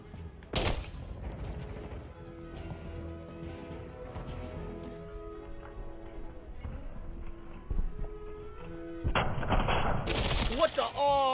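Gunfire from the video game Modern Warfare 2: a loud broadband burst near the start, then sustained rapid shooting near the end, with game music and effects in between.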